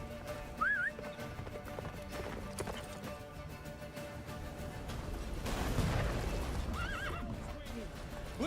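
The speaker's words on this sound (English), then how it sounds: "Faster, Roach. Don't stop" A horse galloping and whinnying in The Witcher 3 video game, with rapid hoofbeats under game sound, two short neighs and a swelling rumble of battle noise in the middle.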